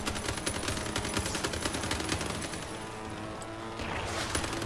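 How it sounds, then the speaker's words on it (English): Machine gun fire in the vehicle combat game Crossout, from a build carrying eight Imp machine guns: steady rapid bursts of rattling shots, loud and close, running through the whole stretch with crashing impacts mixed in. "It was actually lucky because a couple of shots come whizzing across."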